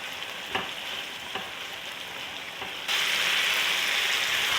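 Garlic-ginger paste frying in a pan with a steady sizzle and a few soft stirring knocks, growing noticeably louder and hissier partway through.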